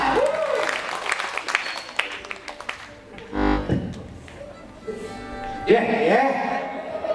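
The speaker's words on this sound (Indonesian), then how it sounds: "kita beri tepuk tangan dulu yang meriah dulu ya" An audience at an orchestra variety show claps, the applause fading in and out around talk and brief background music, with a loud thump midway.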